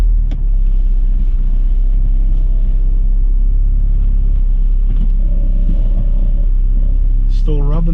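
An Acura RSX engine rumbles steadily while driving, a low continuous drone with road noise throughout, and a brief revving rise near the end.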